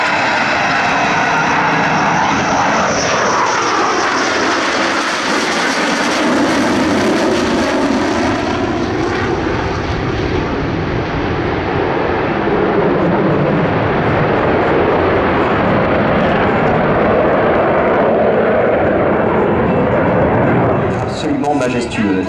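A French Navy Atlantique maritime patrol aircraft flies past at the La Ferté-Alais air show, a loud, sustained turboprop engine roar that swells and sweeps by overhead, with a commentator talking over it.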